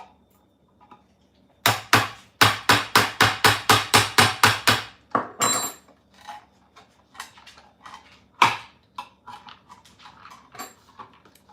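A screwdriver prying something open in a kitchen, giving a quick series of about a dozen sharp rhythmic clicks and taps followed by scattered softer scrapes and knocks, close and clear.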